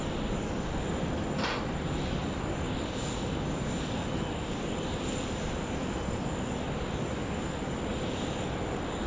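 Qantas jet holding at taxiway Alpha 1 for runway 34 left at Sydney Airport, its engines giving a steady, loud broadband roar with a faint high whine throughout, no talking.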